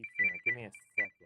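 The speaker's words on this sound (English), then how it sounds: "I do apologize for the phone ring" A phone rings with a steady electronic tone that keeps going while someone talks over it in short bursts.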